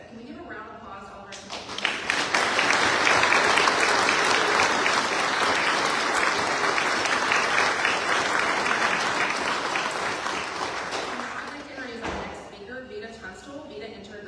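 Audience applause breaks out at a Virginia bill-signing event with the governor, rising sharply into sustained, dense clapping from a large crowd for about ten seconds before fading out, with a voice speaking faintly underneath.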